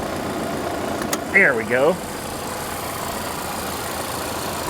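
A 2017 Volvo XC90 engine idles with a steady low hum, while a voice speaks briefly over it.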